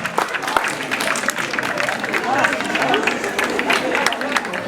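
Applause from an audience at an open house, dense and steady clapping throughout, with a murmur of crowd voices mixed in.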